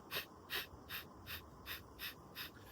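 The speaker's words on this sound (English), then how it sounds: "There is breath of fire." Breath of fire breathing technique, rapid forceful nasal exhalations in a steady rhythm of about three per second, eight sharp close puffs in a row.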